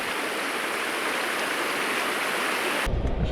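A rocky creek runs beside a shaded campsite, its water a steady broadband rush that fills the clip and cuts off sharply near the end as a low rumble takes over.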